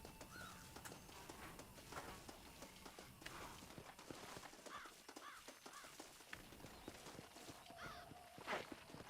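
A horse's hooves clip-clop in an uneven walking rhythm in Red Dead Redemption on Xbox 360, over game ambience with occasional crow-like calls and brief bird chirps, moderately loud throughout.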